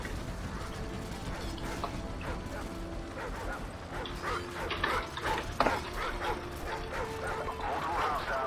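Dog barking in Call of Duty 4, with repeated yips and whimpers over a dense mechanical game background, while a voice talks over it.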